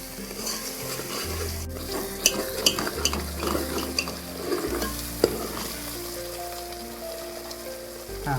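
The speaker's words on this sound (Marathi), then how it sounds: "आता याला तेल सोडजेपर्यंत आपण शिजून घेऊ" Tandoori mutton masala frying in oil, a close, steady sizzle broken by spoon scrapes and clinks against the pan as it is stirred, with no talk.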